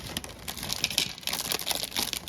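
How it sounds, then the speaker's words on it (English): A small plastic bag of light switch screws crinkles and rustles up close as it is opened and emptied, with light patters and ticks and no voices. "Just pour them out of the plastic bag."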